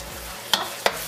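Shrimp fried rice with peas and carrots stirred in a hot pan: two quick, close scraping clatters over a faint, steady sizzle.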